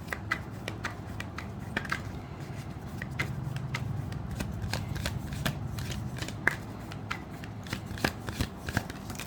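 Tarot cards being shuffled by hand, a steady run of soft riffling with sharp snapping clicks scattered throughout, close and fairly quiet, with no talking.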